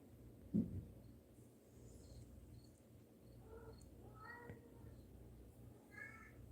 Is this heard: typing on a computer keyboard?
no